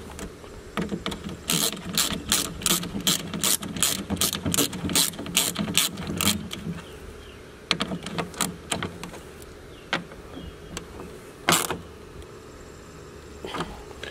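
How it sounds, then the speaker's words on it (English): A ratchet tightens an M10 bolt on a Jeep Wrangler JLUR mirror mount, with rapid, close clicking bursts in steady rhythm that slow to a few scattered clicks and taps near the end. "And then you just tighten it down to the Jeep."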